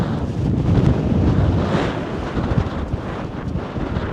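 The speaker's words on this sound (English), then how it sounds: "These gusts are absolutely insane." Strong wind gusts buffet the microphone high on a mountain in Norway's Lofoten Islands, a loud, continuous roaring rumble that swells and eases without pause.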